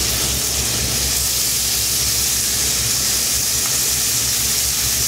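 A second batch of unseasoned bacon sizzles in a pan with a steady, dense hiss that stays loud and unbroken throughout, and no voices can be heard.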